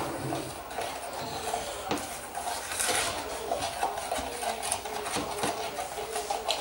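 Sugary toffee mixture is stirred steadily in a pan, with soft repeated scraping and light clinks of the spoon against the metal, fairly quiet and without talk.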